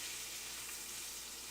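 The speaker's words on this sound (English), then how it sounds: "You hear that sizzling?" Bacon fries in a pan with a dense, steady crackling sizzle, close and constant throughout the short stretch, with no talking.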